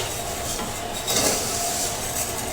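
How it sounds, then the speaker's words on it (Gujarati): Sweet vermicelli (sev) roasting in a pot over a gas flame, stirred with a steady scraping and rubbing of a spoon against the metal under a soft continuous hiss, close and moderately quiet. "જો ગેસ પર બકડિયું હલતું હોય તો આ રીતે આપણે હાંડસીની મદદથી પકડી લેવું ને હલાવવું"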